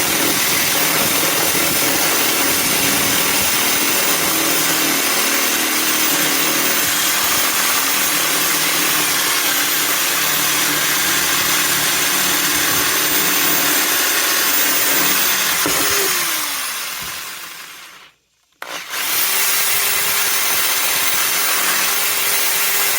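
A power drill bores a half-inch hole, a loud continuous whine running steadily for many seconds, cutting out abruptly, then spinning up again.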